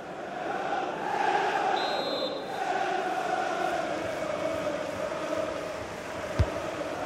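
A large stadium crowd in the video game FIFA 20 roars and chants in a sustained, distant wash of voices during a substitution, with a sharp thud near the end.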